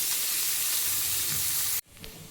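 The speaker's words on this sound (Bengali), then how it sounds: "পেঁয়াজটাকে আমি একটু লাল করে ভেজে নেব।" Chopped onion frying in oil in a pan, a steady loud sizzling hiss that cuts off abruptly, followed by faint quieter sizzle.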